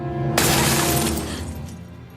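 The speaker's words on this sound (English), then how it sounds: "Well, luckily, it's just fucking sugar glass." Sugar glass breaking in a 2014 film scene, a single loud close shatter with a bright crash that rings and decays over about two seconds, with no talk over it.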